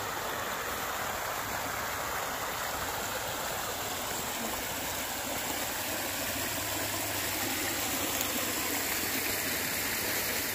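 A stream of water flows steadily in cold weather outdoors, a continuous broadband rushing that stays close and even throughout, with no talk over it.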